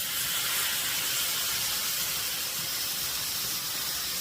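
A whole cup of milk steams and sizzles in a hot pan while biscuits are being made from scratch, a steady broadband hiss that holds evenly, close and fairly loud, with no talking.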